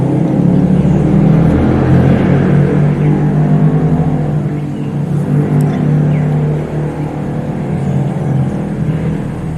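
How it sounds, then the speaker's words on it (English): Traffic on a distant main road, a steady low rumble of passing cars that stays continuous and fairly loud throughout, with a faint swell and ebb as vehicles go by. "the main road is pretty far from where the house is, and you can still hear the cars"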